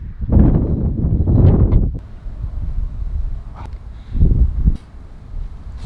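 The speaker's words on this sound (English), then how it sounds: "It's gonna be too windy." Strong gusts batter the microphone in heavy, roaring bursts, easing between blasts, with a faint rustle in the quieter gaps.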